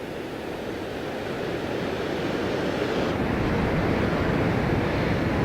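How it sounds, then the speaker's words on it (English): Rushing water at a river dam on a windy shore, a loud, dense, unbroken roar of churning flow mixed with wind buffeting, steady throughout with no voices. "Just a little aside to this dam and this rushing water today."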